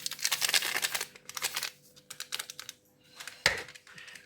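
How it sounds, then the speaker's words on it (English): Scissors cut open a yeast packet, making crisp crinkling and rustling bursts close by with a sharper snip near the end. "use my scissors to cut open the yeast"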